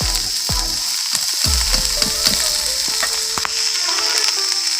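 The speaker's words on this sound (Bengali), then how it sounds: "ওই শাকটা দিয়ে দেব। এটাও কিছুক্ষণ নাড়বো, তারপরে নামাবো।" Chopped greens frying and being stirred in a hot pan, a constant sizzle broken by repeated scraping strokes of a spatula against the metal, close and fairly loud.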